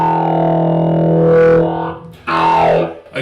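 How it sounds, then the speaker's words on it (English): MXR Jerry Cantrell talk box with gain engaged, run through a small Fesley Busker amplifier, giving sustained distorted guitar tones shaped into vowel-like wah sweeps; loud and close, two phrases with a brief dip between. "Now I've got the gain activated on this Jerry Cantrell talk box"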